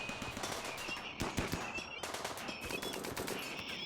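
Rapid automatic gunfire from a colony's defenders shooting Scyther mechanoids in Rimworld, a dense continuous rattle of shots with sharper bursts layered over it, steady and fairly loud with no talk.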